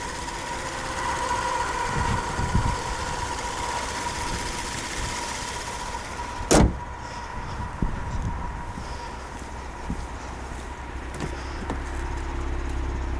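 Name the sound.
twin-turbo car engine idling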